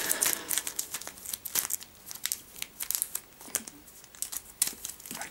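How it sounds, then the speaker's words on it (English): Crisp paper crinkling and flicking as a pack of home-printed print-and-play game cards, backed with extra card for strength, is shuffled close up in a steady, busy rhythm with no talking. "We shuffle the pack."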